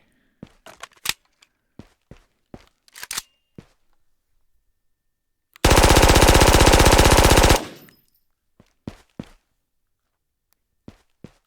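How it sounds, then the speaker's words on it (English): M4 rifle in the video game Ghosts of Tabor fires one loud sustained automatic burst of about two seconds, bracketed by scattered sharp clicks and handling taps before and after. "It's the M4, and it definitely has a fast rate of fire from what I can tell, but let's give it a try."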